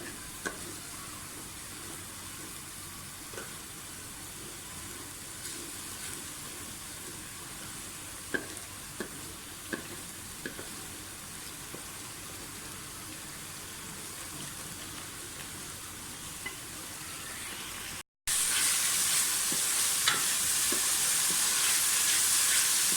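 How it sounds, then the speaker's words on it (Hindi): Onions with ginger-garlic paste and cumin sizzle and fry steadily in a hot pan with occasional stirring clicks, and the sizzle grows brighter and louder near the end. "प्याज, अदरक लहसुन का पेस्ट और जीरा जो है वो हमारा भून गया अच्छी तरह से"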